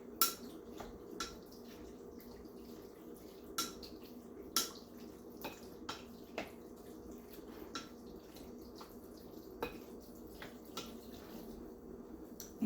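Tuna casserole ingredients being stirred in a dish, soft wet squishes with scattered light clinks of a utensil against the dish at irregular intervals, quiet and close.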